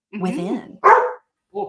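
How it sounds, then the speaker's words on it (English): A dog barks in a short burst between stretches of conversation, close by and fairly loud, with people talking before and after it. "that was the dog saying, "Yes, we agree.""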